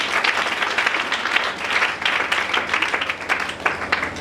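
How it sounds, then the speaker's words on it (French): A congregation at a church prayer service bursts into sustained, loud applause, a dense wash of many hands clapping steadily throughout, with faint crowd noise beneath. "Acclamons pour le Seigneur Jésus."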